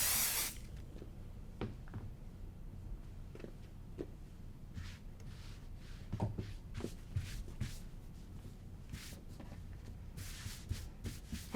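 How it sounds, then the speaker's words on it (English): Brief hissing bursts of basting adhesive sprayed up close onto quilt fabric, scattered among soft rustling and shuffling of fabric, with a longer spray near the end. "And then we're going to spray this last front section."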